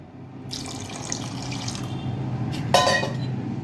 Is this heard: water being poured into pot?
yes